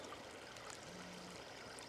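Creek water flows steadily in a continuous broadband rush near a partly submerged old bridge on a hike, with no talk.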